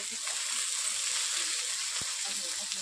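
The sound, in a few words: chopped onions added to hot oil with panch phoron, sizzling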